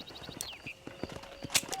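Horses pulling a stagecoach in Red Dead Redemption trot with a steady, rhythmic clip-clop of hooves at moderate distance. A brief whinny and a faint creak sound over the hoofbeats, with no talking.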